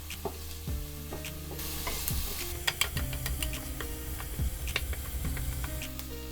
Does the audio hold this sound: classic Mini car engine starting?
no